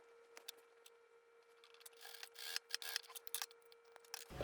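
Scissors trim a fabric seam allowance while a two-tone dress is sewn: quiet scattered snips early on, then a denser run of close, crisp cuts in the latter half, with a faint steady hum underneath and no talking.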